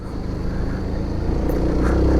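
A SYM NH-X 125 scooter engine holds a steady cruise at 5,000 RPM, a continuous close drone with a low rumble and slight rising swell, no voices.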